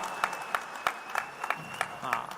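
Scattered hand claps from a poetry event audience, a sparse, uneven patter of individual claps at moderate distance.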